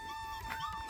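A dog near a litter of puppies and their mother gives a brief, high, thin whimper, close by and with no talk.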